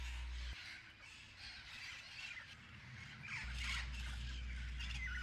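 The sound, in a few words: red-crowned Amazon parrots squawking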